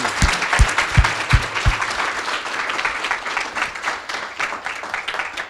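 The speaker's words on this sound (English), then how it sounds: "Dr. Howard a round of applause." A crowd claps for Dr. Tyrone Howard at an alumni talk, opening with a few sharp, close individual claps before settling into a steady, fading round of applause from the audience.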